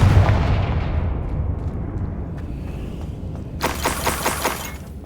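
Confringo blasting spell in the Hogwarts Legacy video game, a loud booming blast that rolls off into rumble, then a burst of sharp crackling impacts near the end.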